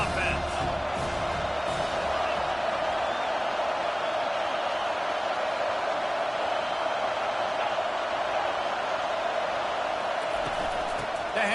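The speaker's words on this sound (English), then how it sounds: "This crowd trying to make life miserable for this offense." A large stadium crowd at a Florida college football game keeps up a steady, loud roar that fills the air throughout, with no break in the noise.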